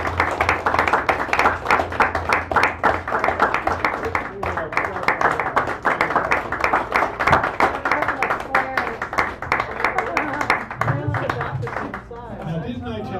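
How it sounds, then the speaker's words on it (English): A café audience claps steadily after a poetry reading, dense applause carrying on for several seconds before thinning out near the end, with a few voices murmuring underneath. "give her another round of applause, please"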